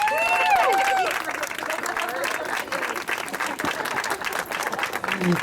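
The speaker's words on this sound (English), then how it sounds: "Give yourselves a round of applause." Loud, sustained applause from a crowd of about 288 people at an Alzheimer's walk in New Bern, North Carolina, dense clapping with some cheers and whistles throughout.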